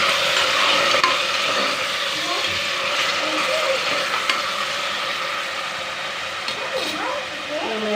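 Tomatoes being stirred into onions already softened in a pan for vegetable biryani, giving a steady close sizzle with scraping stirs and faint clinks, with low voices in the background.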